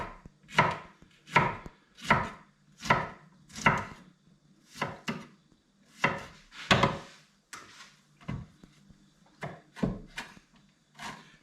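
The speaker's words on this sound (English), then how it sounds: "Chop the peppers up." A knife chops fresh peppers for homemade chutney on a board, a steady run of about fifteen crisp, close thuds at a relaxed even pace, with no voices.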